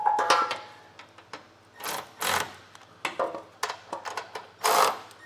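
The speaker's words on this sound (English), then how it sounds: "Tighten up our top 2 nuts here" Nuts on a Curt trailer hitch receiver being tightened with a 3/4 inch socket on a 2024 Buick Enclave, uneven bursts of ratcheting clicks and metallic turning sounds separated by short pauses, close by.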